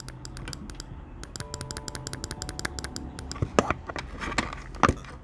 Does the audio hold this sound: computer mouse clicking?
yes